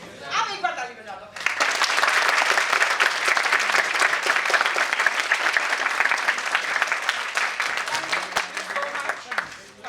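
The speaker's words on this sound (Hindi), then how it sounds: "आप एक बार ताली बजा दो." An audience claps at the close of a session on personal agility and resilience, a brief voice first and then steady, full applause that holds to the end.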